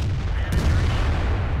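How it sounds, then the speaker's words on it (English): An artillery shell slams into a tank in World of Tanks, a short loud low boom with a sharp crack near the start, followed by a rumbling tail. "now you're getting hit by artillery"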